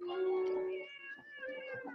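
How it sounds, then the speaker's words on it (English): A cat meows in distress, a loud drawn-out wail followed by shorter, wavering cries, close and alone with no talk over it. "That darn cat."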